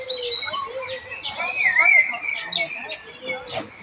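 Birds chirping and tweeting while being fed outdoors, a lively cluster of close, overlapping high calls with soft background noise and a faint voice.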